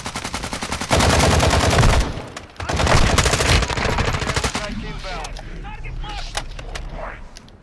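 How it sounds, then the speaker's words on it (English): Rapid automatic gunfire from a zombie in a multiplayer shooter video game, loud sustained bursts with brief gaps and scattered shots trailing off, with faint voices underneath. "Why was that zombie shooting?"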